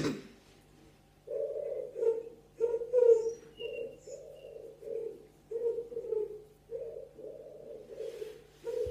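A pigeon coos in a steady series of soft, low, rounded calls, repeated rhythmically about once a second against a quiet background.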